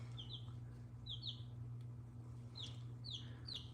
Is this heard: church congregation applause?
no